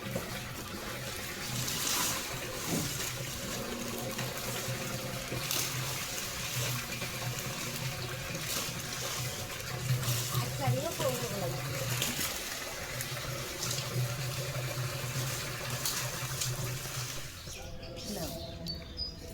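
Water pours or fills steadily in a household setting, a continuous splashing rush lasting nearly the whole stretch before tapering off, with voices talking in the background.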